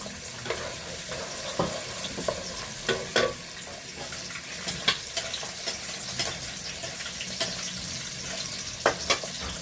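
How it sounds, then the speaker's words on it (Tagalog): Garlic and onion sautéing in cooking oil, a steady low sizzle with scattered crackles and pops, close and fairly quiet, with no talking. "Isa na ang bawang at sibuyas. Pisado na sa mantika."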